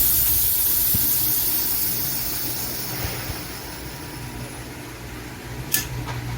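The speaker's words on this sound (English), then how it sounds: "That will prevent you from opening the pressure cooker while there's still pressure inside here, okay? I'll release the pressure." A Micromatic pressure cooker releases its pressure in a loud continuous hiss of escaping steam that slowly fades over several seconds, with a faint clink near the end.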